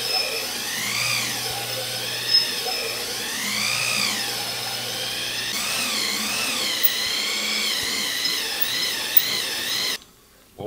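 A power tool hones the cylinder bore of a Honda XR650 engine during a rebuild, giving a steady whirring whine that rises and falls in pitch over about ten seconds before cutting out, with faint background noise underneath.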